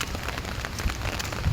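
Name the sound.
heavy rain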